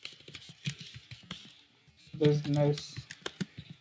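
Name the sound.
typing text on a computer keyboard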